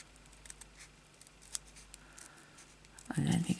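Scissors snip through recycled paper for a junk journal in a quiet room with soft, crisp cuts, and a voice speaks briefly near the end.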